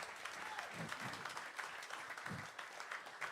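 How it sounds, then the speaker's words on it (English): An audience at a live big band concert applauding the band members, dense continuous clapping with some louder individual claps and faint voices beneath. "Keep the applause coming."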